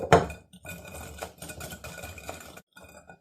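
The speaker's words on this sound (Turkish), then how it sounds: "Biraz çırpacağım." A whisk clinks and scrapes against a bowl as eggs and sugar are beaten for brownie batter. The strokes are uneven and close, with one sharp knock at the start and a short pause near the end.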